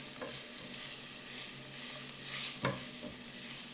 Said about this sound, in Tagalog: Then, igigisa ko ng luya.